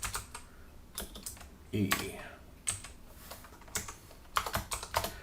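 Computer keyboard keys clatter in quick irregular bursts while code is written, some keystrokes sounding louder and closer than others, with a brief murmur of speech among them.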